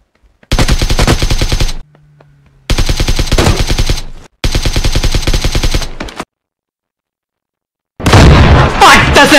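Rapid bursts of automatic gunfire in the PUBG Lite battle royale game, three long loud volleys separated by short pauses, followed by another dense burst of shooting near the end.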